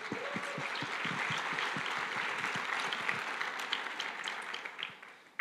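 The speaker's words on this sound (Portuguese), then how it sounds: "dê um aplauso para Jesus" Conference audience applauding steadily, a dense wash of many hands clapping at an even level that tapers off near the end.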